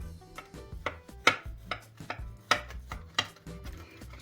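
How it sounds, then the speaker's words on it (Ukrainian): A knife cutting through a hot, freshly baked plum pie made without an oven, a series of about eight crisp chops and taps on a board or dish, close and clear with no talk. "А тепер його відразу нарізаємо."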